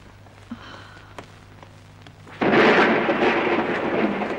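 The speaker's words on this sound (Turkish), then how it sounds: "Yağmur da başladı." After a few quiet clicks, heavy rain suddenly pours in, loud and close, with a rushing roar like a downpour beginning.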